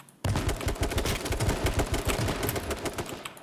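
Shotgun fire in an online shooter video game rattles in a loud, dense burst of rapid, overlapping shots that starts abruptly and keeps going to the end, with no talk over it.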